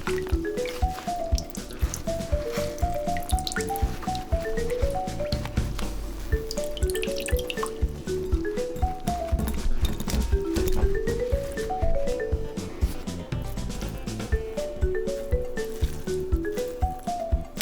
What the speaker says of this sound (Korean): 면포에 넣어 물기를 꼭 짜주세요.